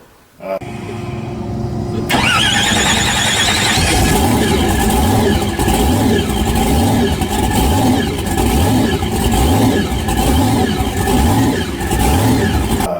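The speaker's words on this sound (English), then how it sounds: "It's got a Chevrolet based big block 540 with a 871 blower." A Chevrolet-based 540 big block with an 871 blower in a 1955 car starts up and then rumbles loudly and steadily close by, with a lumpy, pulsing idle and throaty revs.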